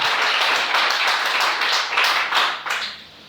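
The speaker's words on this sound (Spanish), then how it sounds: "Denle el aplauso al Señor esta mañana." A church congregation breaks into dense, steady applause that fills the room and then tapers off toward the end.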